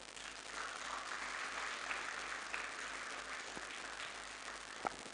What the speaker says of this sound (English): Keep clapping, please, ladies and gentlemen.